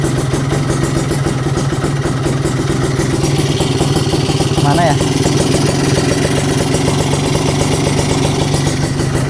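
A Kawasaki Ninja two-stroke motorcycle, left unused for two months and unable to hold a steady idle, runs up close with a continuous rattling, buzzing drone, while someone briefly speaks over it.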